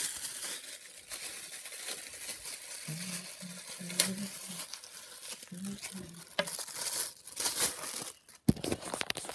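Plastic packaging for a small black tripod being ripped open by hand, with crinkling and tearing rustles up close over several seconds and a louder rip toward the end.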